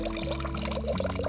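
Water from a pump-fed backyard fountain built from an antique bathtub trickles and pours steadily and close by, a continuous liquid wash with a low pump hum underneath and no talking.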